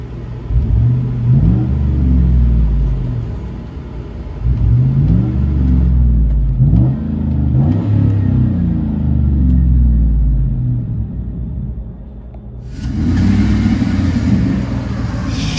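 Chevy Avalanche 5.3L V8 with a loud aftermarket exhaust, deep rumbling revs rising and falling in repeated strong pulls, close and loud, ending in a sustained roar.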